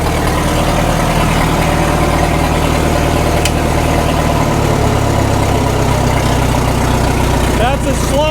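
A 1936 Caterpillar Twenty-Two tractor engine idles at low throttle, a loud, steady low rumble close by that runs throughout with people talking over it.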